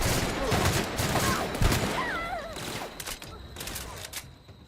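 Video game gunfire comes in dense, rattling bursts and volleys, with sharp reports crowded together and then thinning out toward the end. Faint voices and game sounds run underneath.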